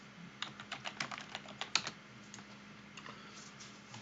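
Quiet keystrokes on a computer keyboard, a quick irregular run of close clicks followed by a pause and a few more scattered taps, with no voices.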